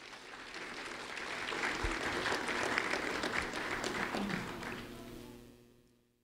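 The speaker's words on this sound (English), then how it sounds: "Ariana Garcia, a round of applause for Ariana Garcia." An audience at a sheriff's office award ceremony applauds, a steady wash of many hands clapping that swells, holds for several seconds, then fades out.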